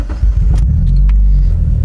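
Car engine starting and settling into a rough, unfinished idle on a MegaSquirt-tuned setup, loud low rumble heard close with steady throbbing.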